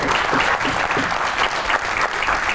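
A studio audience gives loud, dense applause for a guest on a talk show, many hands clapping close and steady throughout the brief stretch with no voices over it.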